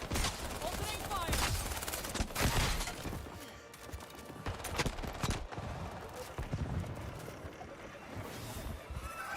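Scattered gunfire in the High Guard video game, sharp shots popping irregularly at moderate loudness amid a busy, washy battle ambience.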